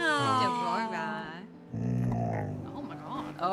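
A dog named Toast lets out a low growling vocal grumble, rising and falling in pitch, with people talking close by.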